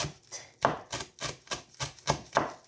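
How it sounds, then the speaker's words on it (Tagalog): Parsley finely chopped with a knife, about ten close, regular knocks of the blade on the board in a steady rhythm, with no talk over them. "So here guys, nahiwa ko na itong aking parsley na maliit."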